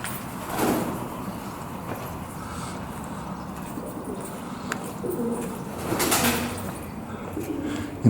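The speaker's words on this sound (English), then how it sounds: "You can hear a bird fluttering about under the bridge there." Soft bursts of a bird's wing flapping echo under a canal bridge on the Leeds and Liverpool Canal, with low ambient rumble and a faint cooing bird.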